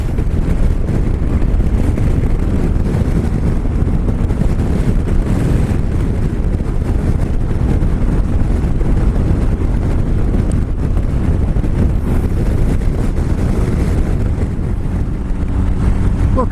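Heavy wind buffeting the microphone while riding a Triumph Tiger Explorer motorcycle, a loud, continuous low rumble and roar with no pauses, dominating the whole stretch.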